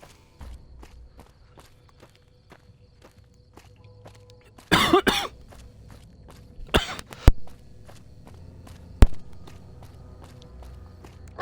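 A person coughs in two short, loud fits near the microphone, joined later by a quieter throat clear. Soft, steady footstep-like ticks from a Fallout New Vegas game run underneath, and there is no talk.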